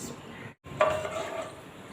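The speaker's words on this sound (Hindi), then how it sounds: "अब उसी तेल के अंदर मैं ये मसाले डाल रही हूँ।" Fenugreek seeds, mustard seeds, fennel and nigella seeds hit hot oil left from frying taro root, giving a steady close hiss of sizzling with a brief clink of a utensil against the pan.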